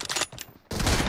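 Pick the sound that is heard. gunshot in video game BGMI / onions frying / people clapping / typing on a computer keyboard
gunshot in video game BGMI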